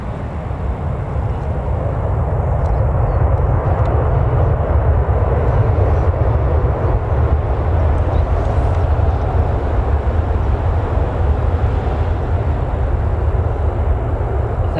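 A British Airways airliner arriving from Barcelona at Newcastle Airport, a loud, sustained low engine roar that swells in the first seconds and then holds steady and close, with no talk.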